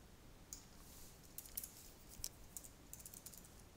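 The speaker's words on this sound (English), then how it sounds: "I can type in a new URL," A URL is typed on a keyboard while demonstrating a browser on an AIR iPhone, producing faint, sparse key clicks in short bursts against quiet background hiss.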